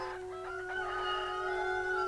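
A rooster crows in a mountain village (aul) in a 1971 Ossetian film, one long, fairly faint call rising and holding over about two seconds against a low steady background hum.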